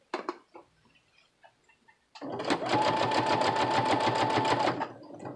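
Domestic sewing machine running a straight stitch on fabric with a presser foot attachment, a steady fast mechanical chatter lasting a few seconds, close and loud, after some brief handling clicks.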